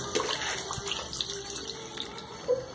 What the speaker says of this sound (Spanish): El paso 4 es lavarse ambas manos con abundante agua